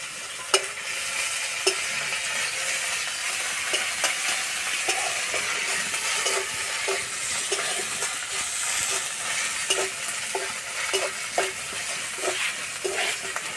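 Paste sizzling and frying with onions in a pan for a spicy besan egg curry, a steady close hiss broken by frequent sharp crackles and spatters, no voices.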